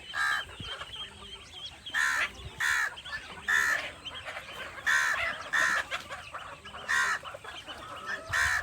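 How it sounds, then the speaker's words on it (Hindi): Chickens and roosters cluck in bursts of loud, overlapping calls roughly every second, with busy farmyard bird chatter underneath throughout. "मुर्गे और मुर्गियाँ, जोली और जो हमारी मौली है, ये दोनों भी जो वो भी इंजॉय कर रही हैं।"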